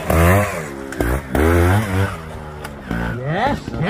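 A trial motorcycle engine revs and rises in pitch as it climbs at a Super Trial event, loud and close, surging in bursts, with a voice commentating over it.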